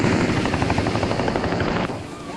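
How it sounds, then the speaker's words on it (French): Helicopter flying over a beach in an AI-generated Kling 3.0 scene, loud rhythmic rotor thumping and engine roar that drops off slightly near the end. "on voit l'hélicoptère comme ça passer au-dessus de la plage et arriver et descendre"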